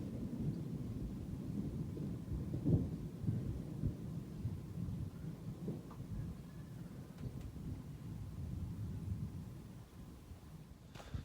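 Thunder rolls through a lightning storm over a farm: a low, continuous rumble with swells and wind buffeting, steady and fairly distant, with no talking.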